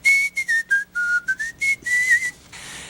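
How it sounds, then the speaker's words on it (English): Someone whistles a short tune alone, a string of clear, close notes with brief gaps between them. "And whistle."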